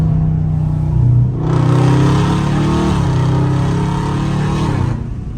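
A catless Dodge Scat Pack in track mode downshifts with a sharp blip, then roars hard under acceleration, loud and raspy for several seconds before the exhaust note drops off.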